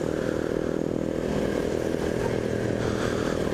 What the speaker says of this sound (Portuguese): Só queremos ter o prazer de registrar um rolezinho de moto